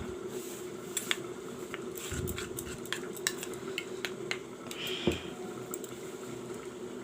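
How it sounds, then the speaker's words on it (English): Coriander leaf chutney being stirred by hand as mustard oil is mixed in, with light scattered clinks and taps of a spoon against a bowl over a faint background hum. "Now I will mix half teaspoon mustard oil"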